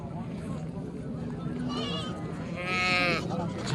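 Lambs bleating at a livestock bazaar in Kara-Balta, a couple of wavering bleats rising over the crowd hubbub, the second one louder and closer, while traders haggle in the background.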